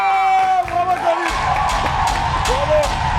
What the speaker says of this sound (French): Maximum d'applaudissements encore, s'il vous plaît, pour Cody.